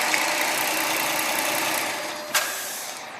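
A 2010 Dodge Charger SXT's 3.5 liter V6 runs steadily at idle with the hood open, a smooth even hum heard up close with one brief click partway through.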